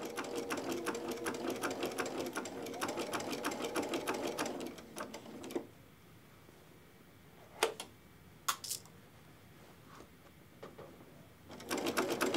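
A sewing machine stitches quilt binding in a fast, rattling run. It pauses for a stretch of quieter handling with a couple of sharp clicks, then starts stitching again near the end.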